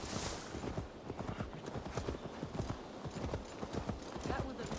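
A horse's hooves clip-clop at a steady walking rhythm in Assassin's Creed Valhalla, dense repeated thuds close by under ambient game sound, with speech partly overlapping.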